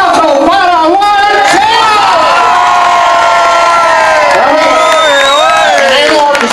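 A crowd cheers, whoops and shouts for a performer at a Latin Sunday music event in Old Town Kissimmee, Florida, a loud sustained roar with voices and shrill cries layered throughout.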